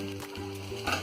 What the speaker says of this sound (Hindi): बहुत ही धीमी आंच में, बहुत स्लो आंच में हमको इसको फ्राई करना है